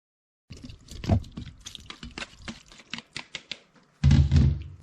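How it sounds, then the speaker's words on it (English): Cooked macaroni tipped back into a smooth, creamy cheese sauce: a series of wet, squishy clicks and plops, followed by a louder burst of thick, sloppy mixing at the end, with no talking. "We'll add back in our macaroni"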